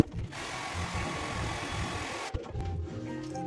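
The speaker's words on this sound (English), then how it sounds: "quick dry them with the hairdryer" A steady broadband whooshing blows continuously for a couple of seconds, then cuts off abruptly, leaving a lower mechanical hum.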